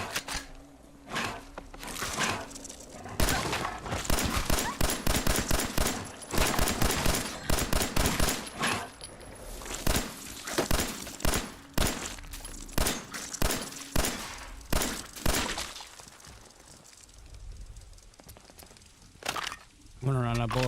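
Rapid bursts of automatic gunfire and single shots in the video game Fallout 4, loud and dense through most of the stretch, thinning out near the end, with a voice talking over the shooting.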